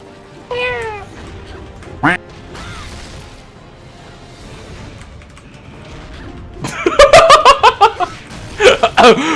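A cat meows loudly and repeatedly, with a few separate calls early on and then a rapid burst of many meows close together near the end, while a person laughs and speaks Korean in between.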